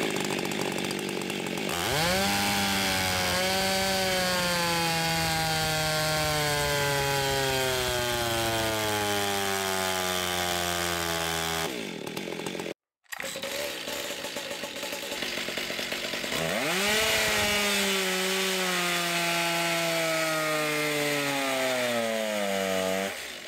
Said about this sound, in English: here's the saw with the muffler mod